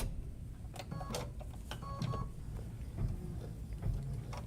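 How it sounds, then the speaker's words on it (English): An embroidery-capable sewing machine running a placement stitch on fabric, a fast mechanical rattle with rhythmic clacks and brief electronic beeps, close and steady without talking. "So I'm going to go ahead and run my next step, which will be the placement stitch for our next piece of fabric."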